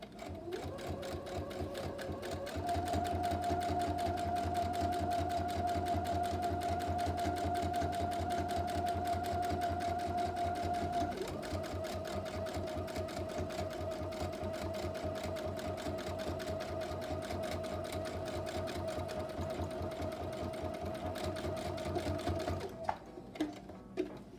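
A sewing machine stitches the bottom pieces of a fabric bag, running in a steady close whirring drone for long stretches with a brief pause and a few clicks at the end; a voice speaks quietly over it.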